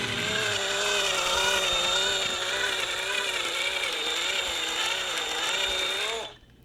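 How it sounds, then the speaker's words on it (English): A handheld power drill boring a small hole for a rivet to mount a new terminal: a steady close, wavering whine that runs continuously for about six seconds, then cuts off abruptly. "I'm gonna use my drill and make a little hole here."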